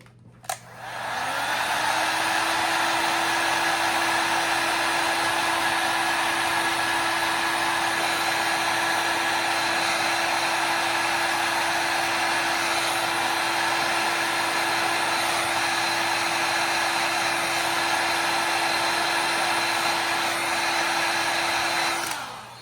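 A heat tool warms the plastic peg of an action figure to soften it, switching on with a click and then blowing with a loud, steady whine for about twenty seconds, close and uninterrupted.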